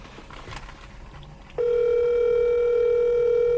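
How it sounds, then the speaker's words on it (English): Outgoing phone call tone, a steady loud continuous electronic tone that starts abruptly and holds for about two seconds, heard alone after faint background noise. "Let me call Fernando now, see what the situation is"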